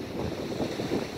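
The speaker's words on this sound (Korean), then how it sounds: "바람도 세차게 불고 있는데요" Strong wind gusting along the Seocheon coast at low tide near a small harbor, a steady rough roar with surging gusts and wind buffeting the microphone, no voices.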